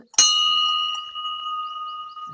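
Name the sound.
temple bell being rung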